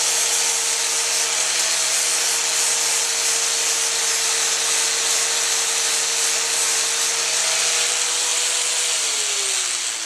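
An angle grinder fitted with sandpaper sands a ceiling fan part being converted, a steady loud abrasive whine and rubbing hiss running continuously, the motor pitch dipping slightly near the end.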